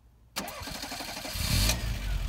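Car engine cranking and catching after silence, then settling into a steady mid-pitched idle that swells slightly, close and loud with no talk.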